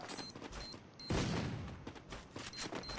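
Rapid bursts of gunfire crackle in quick succession, with short gaps between volleys, sharp and fairly close amid a busy game-like background.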